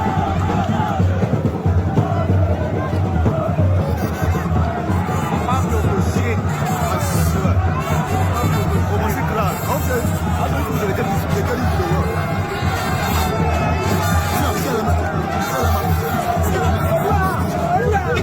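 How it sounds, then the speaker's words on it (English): A large crowd roars and cheers continuously at a senator's homecoming, a dense, loud wall of voices, shouts and babble that holds steady throughout. "The crowd. The crowd."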